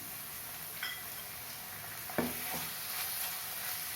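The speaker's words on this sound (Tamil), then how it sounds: "2 தக்காளி அதையும் போட்டுக்கிறேன்." Tomatoes and green chillies sauté in a pan for a spicy egg capsicum masala, a soft steady sizzle with a couple of quick stirring scrapes, near and without speech.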